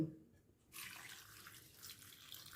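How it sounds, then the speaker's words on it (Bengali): Water pours steadily into a cooking pot holding deseeded green chilies, ginger and garlic, set to boil for a veg momo recipe. A sudden, continuous hissing splash starts after a brief quiet moment and runs on. "সেদ্ধটা হওয়ার জন্য দিয়ে দিচ্ছি জল আর দেব লবণ"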